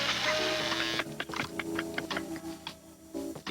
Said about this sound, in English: Introducing the Kodak EasyShare camera and printer dock.